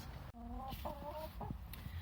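Four hens cluck and murmur in short, repeated calls at close range inside a coop, over a steady low background hum.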